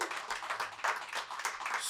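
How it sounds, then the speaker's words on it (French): Audience applause with scattered cheering at a live sports podcast taping, a dense, steady burst of clapping that stays loud and close throughout. "On veut les applaudir!"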